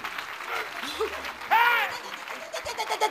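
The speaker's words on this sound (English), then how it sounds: "somebody clap your hands and celebrate Jesus." A church congregation at a prophecy and deliverance service claps its hands, a quick rhythmic patter building toward the end beneath a preacher's loud voice.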